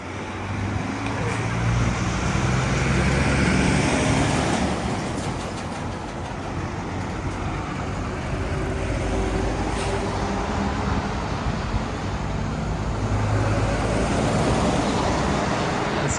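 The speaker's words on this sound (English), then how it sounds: "There's always quite a lot of heavy traffic along this road" Heavy road traffic on a small riverside road in Nakanoshima, Kawasaki, a continuous rumbling wash of passing vehicles that swells and fades as cars and trucks go by, fairly distant and steady.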